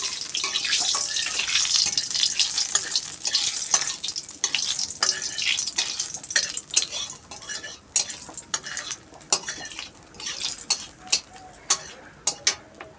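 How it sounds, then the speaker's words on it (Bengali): Radhuni spice tempering sizzles in hot oil for a silver carp fish jhal, loud hissing at first with frequent utensil clinks and stirring taps that grow sparser as the sizzle fades. "রাঁধুনি ফোড়ন দিলাম"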